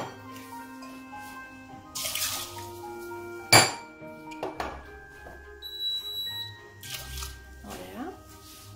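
Water is poured into a cooking pot of orzo in a home kitchen, giving a short rushing splash among clinks of cookware, with a person talking throughout.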